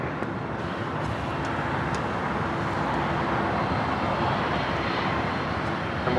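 A jet airliner takes off from runway 25 Right at LAX, its engine roar a broad, sustained, loud rumble that holds steady throughout with no talking over it.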